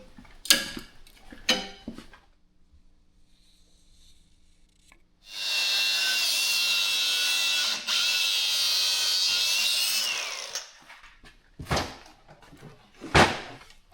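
An abrasive cutoff wheel slices through a propane line in one loud, steady, high-pitched grinding burst of about five seconds, with faint tool handling and clicks before and after.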